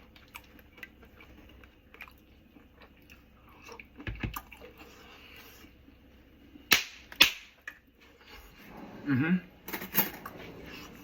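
Chewing on Haitian griot, fried pork with a piece of fat, heard close as scattered moist bites and crunches amid quiet stretches, growing busier toward the end.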